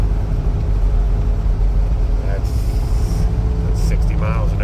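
A 1972 GMC Suburban Highlander cruises at 60 mph, a steady loud road rumble and engine drone filling the cabin, with brief higher whooshes and a voice briefly audible over it.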